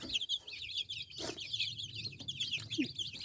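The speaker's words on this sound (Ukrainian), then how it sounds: "Курки" Chickens on a village farmstead in western Ukraine cluck in a few low, close calls scattered through a steady, dense chorus of high chirping that runs without pause. No one speaks.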